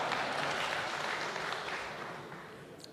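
An audience at a Ukrainian presidential speech applauds, a soft, distant, dense patter of many hands that holds steady and then slowly fades.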